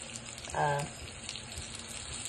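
Food dropped into a hot cast iron skillet, a steady soft hiss and crackle with a brief louder thump as it lands, faint and close.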